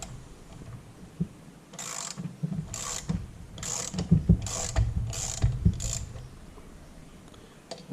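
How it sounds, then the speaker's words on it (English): A wrench cranks on a tight 16 mm bolt on a Tuff Torq K66 hydrostatic transmission, six or so evenly spaced ratcheting clicks near the mic over a low mechanical background. "Taking this bolt out. It's pretty tight."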